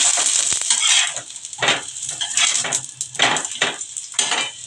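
Oil sizzling loudly around a methi paratha in a hot pan, a bright hiss that swells in repeated bursts as the flatbread is pressed and moved with a spatula, and no talking.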